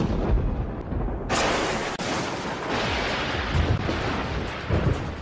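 Thunder rumbles through a thunderstorm, a loud continuous roar with a sharp crack partway through, heavy low-end rolling on without pause.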